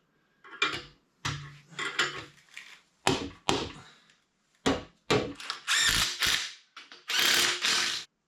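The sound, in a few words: wrench ratcheting while tightening axle bolts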